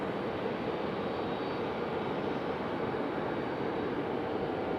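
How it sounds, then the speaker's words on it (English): Boeing 777 airliner taxiing at Raleigh-Durham International Airport: a steady, broad jet engine roar, distant and even throughout, with no voices. "There goes our 777. Taxiing down the runway."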